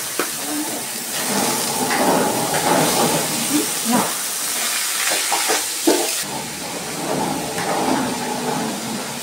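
Pre-boiled cabbage hits fried onions and turmeric in a hot pan, producing a loud, steady hiss with occasional stirring scrapes, while a voice talks over it.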